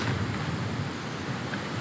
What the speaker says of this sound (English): we're getting a really windy part of the round